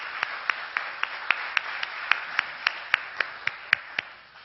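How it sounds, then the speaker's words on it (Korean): A church congregation at a Sunday worship service clapping together in a steady rhythmic beat, about sixteen even claps with no voices over them. "우리 하나님께 영광의 박수를 한번 올려드리겠습니다"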